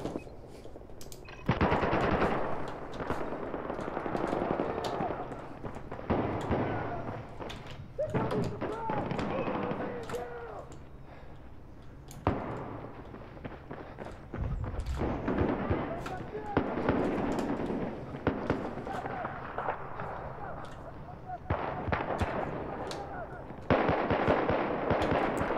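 Video game gunfire in Battlefield 4 multiplayer, with repeated bursts of rapid shots and explosive bangs, some near and some farther off, rolling on and off under a player's ongoing talk.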